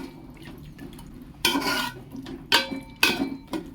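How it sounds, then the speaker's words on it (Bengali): Spices and meat are mixed with salt in a pot, heard as four short scraping, rustling stirs of a spoon against the vessel over a quiet background. "নুনের সঙ্গে ভালো করে মিশিয়ে নেবো সমস্ত মশলার সঙ্গে"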